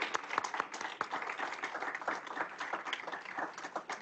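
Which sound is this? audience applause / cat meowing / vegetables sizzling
audience applause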